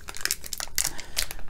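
Scissors cut open a plastic candy wrapper for a watermelon cannabis chew, giving close crinkling and snipping rustles in several quick bursts, with no talking.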